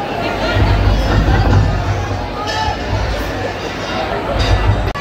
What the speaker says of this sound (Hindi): इतनी ज्यादा भीड़ा भाई इतनी ज्यादा